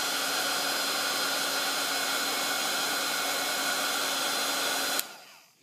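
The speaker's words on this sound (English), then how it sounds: "take my heat tool and dry it with my heat tool" A heat tool blows a steady, loud, hissing rush of air while drying a paper flower wrapped around a dowel. It runs unbroken for about five seconds, then cuts off abruptly and its whir fades out.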